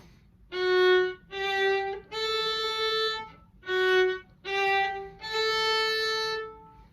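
A violin plays a short melodic phrase from "Are You Sleeping?": six sustained notes in two similar groups of three, clear and alone with no talking.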